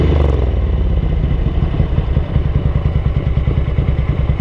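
A Ducati 900SS bevel-drive motorcycle engine idles slightly high, with a steady, close, lumpy rhythmic throb and mechanical clatter throughout.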